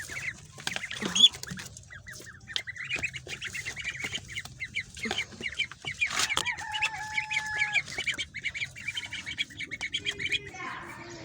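Young chickens clucking and peeping outdoors in the morning sun, a scattered chorus of soft chirps and clucks at close range with faint rustling underneath.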